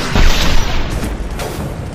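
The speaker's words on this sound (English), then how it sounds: "Firing a high-impact shot." A high-impact shot fires in Mass Effect 2 with a loud, deep boom that rumbles and trails off into a lingering hiss over two seconds, with no voices.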